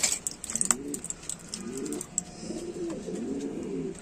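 King pigeons being fed coo in several low, rolling phrases close by, with light rustling and pecking clicks scattered on top and no talk.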